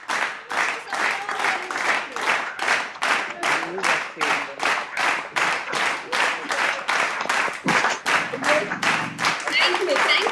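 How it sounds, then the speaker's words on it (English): Participants on a virtual product launch call for a green tea clap together, a rapid, even rhythm of claps running steadily for about ten seconds, with some background voices near the end. "join us in applauding and welcoming this newest addition to our family"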